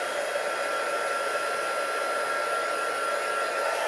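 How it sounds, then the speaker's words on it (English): A crafting heat tool blowing hot air, a steady close whirring hiss with a constant motor whine that runs unbroken and alone throughout. "grab my heat tool"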